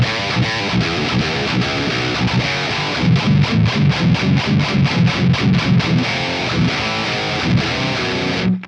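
An electric guitar plays through a Synergy preamp module set to a modern, fast-sounding distortion, loud and dense, with sustained chords giving way to a run of rapid, tightly palm-muted chugs.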